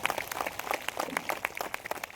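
An audience at an Indian spiritual gathering claps in a brief, moderately quiet patter of quick overlapping handclaps, steady for a couple of seconds.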